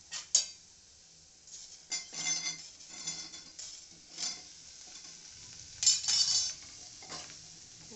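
Cauliflower and potato pieces stir-fried in a pan, heard as soft, quiet sizzling broken by intermittent bursts of spatula scraping and clinking against the pan, with no voices.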